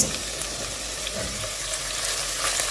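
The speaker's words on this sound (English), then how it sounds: "we'll stir fry this for about a minute on medium heat to allow the onions to release its flavors" Chopped onions stir-frying in oil in a pot over medium heat, with salt added, give off a steady soft sizzle and faint crackle that runs evenly throughout, close by and without talk.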